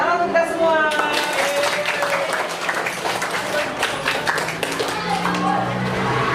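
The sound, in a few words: class clapping hands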